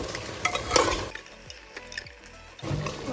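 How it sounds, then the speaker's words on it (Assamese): Chopped tomatoes stirred in a hot pan, with a loud sizzle and scraping strokes up front, then quieter scraping and clinks before the sizzle swells again, close and without talk. "সেইকেইটা দিয়াৰ পাছত ভালকৈ আকৌ লৰাই দিছোঁ"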